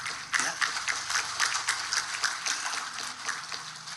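An audience at a cooperative gathering applauds steadily, with dense, continuous clapping that holds moderately loud throughout and has no break.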